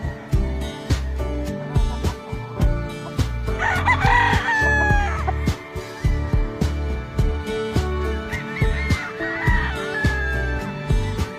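Purebred Golden Boy bloodline gamefowl rooster crowing twice, long drawn-out calls close by, against a busy, rhythmic backdrop of music or loud noise.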